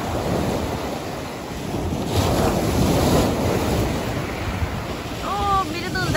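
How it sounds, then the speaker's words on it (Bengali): Sea waves break and wash up on Eastbourne beach under strong gusts of wind buffeting the microphone, with a steady roar of surf and brief faint calls toward the end. "দেখবা ঢেউ এই যে দেখো তোমাকে নিয়ে যাবে"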